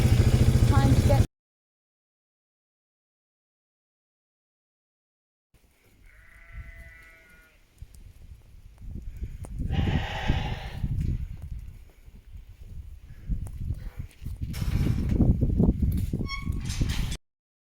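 Small black Hebridean sheep in a mixed black-and-white flock bleat on a farm, a few calls rising from mid-clip amid rustling and movement, after a short burst of other sound and a stretch of silence at the start.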